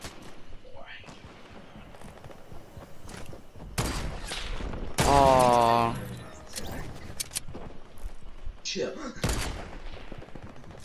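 Fortnite gunfire: scattered sharp shots and a few quick bursts, with a louder volley in the middle, over light game sounds while a player talks.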